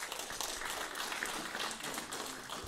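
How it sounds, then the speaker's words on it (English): An audience at a Sunday satsang gathering applauds in a steady, dense round of clapping, fairly distant and quiet, with no voices over it. "Give them a round of applause."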